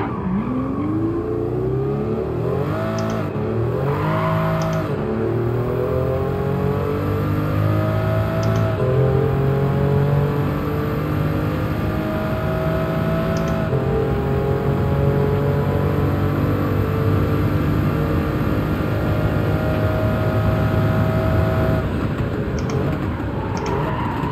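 Pagani Huayra with its Mercedes-AMG V12 is driven in Gran Turismo 7, the engine note climbing steadily through the gears with rising, sweeping revs and brief dips at each shift, loud and continuous throughout.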